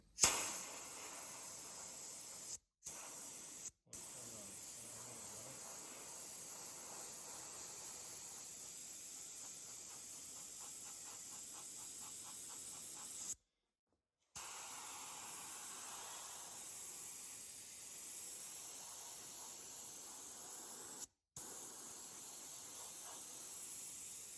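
A paint spray gun lays down a second coat, giving a steady, fairly quiet hiss that runs continuously, broken by a few short silent gaps and one longer pause near the middle.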